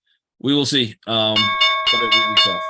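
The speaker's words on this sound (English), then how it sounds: "That is the sound of the morning bell." Someone speaks briefly, then a stock market opening bell rings out loud and close in a quick series of about five bright strikes that overlap his voice.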